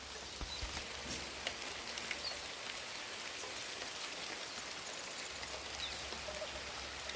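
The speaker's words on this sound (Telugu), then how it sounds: "వర్షం పడుతుంటే వాడి శబ్దం చిటి చిటి అన్న పడుతుంటే చూసారా" Steady rain falling, a continuous soft patter of drops on surfaces with occasional louder splashes, no voices.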